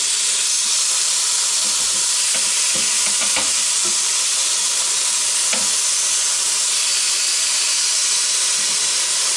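Burgers sizzling on a Ninja Foodi grill, a steady, dense hiss with faint scattered pops and crackles running evenly throughout, close and continuous with no talking.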